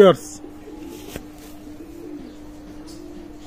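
A Teddy 128 pigeon gives a soft, low cooing drone that carries on steadily, with a brief chirp at the start and a faint tap midway.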